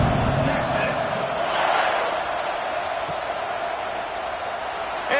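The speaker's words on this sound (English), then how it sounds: "this crowd is buzzing after that last score" Stadium crowd at an Auburn vs Texas college football game, buzzing steadily as a dense, continuous roar after a score, loud and unbroken throughout.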